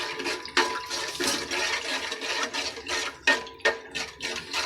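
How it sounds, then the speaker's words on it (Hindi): Gram flour (besan) mixture being stirred in a pan for chana chaat, a steady wet scraping and rubbing with sharper spoon strokes recurring several times, close and alone. "बेसन के डालने के बाद आप इसको अच्छी तरह मिक्स कर लें"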